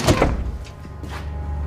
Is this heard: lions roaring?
no